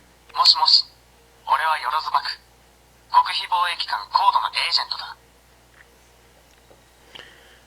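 A DX Zeztz toy phone from Kamen Rider Zeztz plays its electronic ringtone in three close, bright bursts separated by short gaps, followed by a faint beep near the end.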